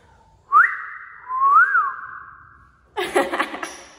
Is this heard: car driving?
no